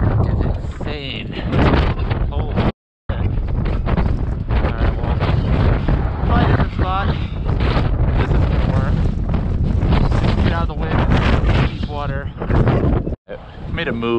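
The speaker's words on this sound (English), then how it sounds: "This wind is insane." Strong wind roars and buffets the microphone at a New York City reservoir during a December fishing trip, loud and continuous across the whole stretch with two brief dropouts, while someone talks over it.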